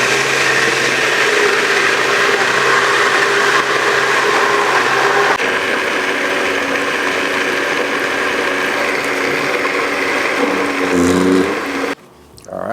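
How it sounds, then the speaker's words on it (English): An immersion blender whirs steadily and loudly through pineapple coconut habanero hot sauce, holding a constant motorized drone for about twelve seconds before cutting off abruptly. "let's get this immersion blender going"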